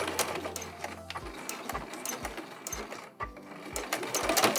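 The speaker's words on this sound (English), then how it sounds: "I'm just going to sew along that side, both sides, with a 1/2 inch seam allowance" Sewing machine stitching the side seam of a small fabric tote bag, running in steady bursts of rapid needle chatter with brief pauses and restarts, close and fairly loud, no talking.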